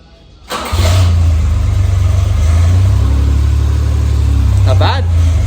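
A Suzuki Carry with a 120hp turbo engine swap and electric choke cranks briefly, then catches and settles into a loud, steady idle that carries on to the end.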